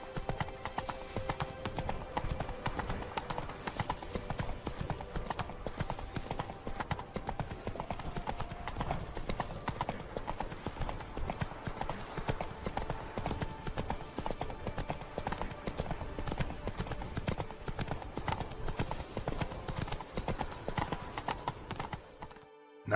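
Roach, a horse in The Witcher 3: Blood and Wine, gallops fast with steady, loud clip-clop hoofbeats throughout, an occasional whinny and faint voices, before stopping abruptly near the end.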